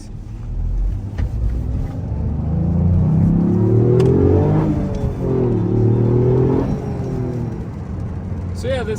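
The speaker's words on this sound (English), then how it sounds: "So yeah, this is a 3-cylinder turbo car." A 2021 Toyota GR Yaris with a 3-cylinder turbocharged engine rumbles deep and close, revving up twice in rising sweeps before settling back to a steady throb.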